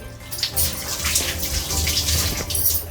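Green chillies are washed under a running kitchen tap, a loud close gush of water splashing steadily with small shifts as the chillies are rubbed and turned.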